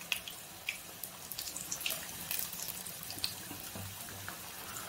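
Cornflour mixed with water is poured into a pot of boiling sweet and sour chutney sauce, giving a faint, steady liquid splash and bubbling with no talking.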